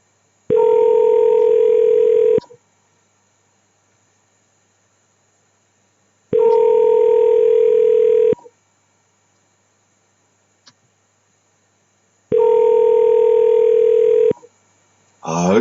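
Ringback tone of an outgoing telephone call: three steady electronic tone bursts, each about two seconds long, separated by roughly four seconds of silence, clear and alone with no talking.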